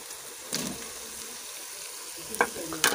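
Boiled mutton is stirred in a hot pan for Shimla mirch gosht, giving a steady soft sizzle with a few sharp scraping stirs of the spoon, fairly quiet and close, with no talking.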